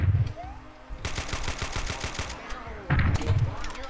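Rapid automatic gunfire from the video game DOOM: Golden Souls II, a dense burst of repeated shots lasting several seconds after a short pause, with a player's voice heard talking at the start and end.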